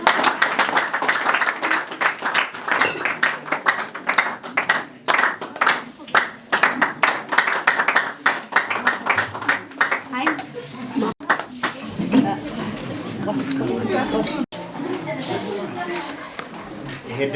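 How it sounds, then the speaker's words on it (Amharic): Rhythmic group clapping rings out at an Ethiopian wedding ceremony, dense and energetic for about ten seconds, then thinning into crowd chatter, light clatter and a few stray claps. "ጭብጨባ ትንሽ"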